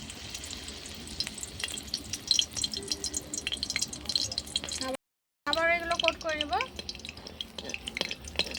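Battered paneer sizzles and spits in hot oil over a clay stove, a steady crackling fry with scattered sharp pops, close and fairly quiet, while someone talks over it.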